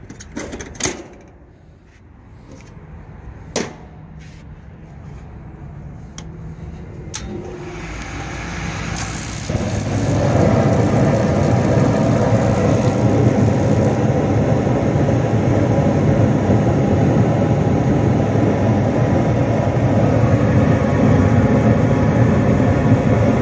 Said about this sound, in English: Feel the vibration from that motor mount being cracked.